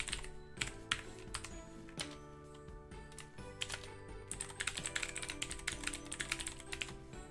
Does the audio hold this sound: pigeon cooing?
no